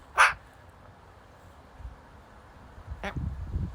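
Two short, harsh bird calls ring out a few seconds apart, fairly close, over quiet low background rumble.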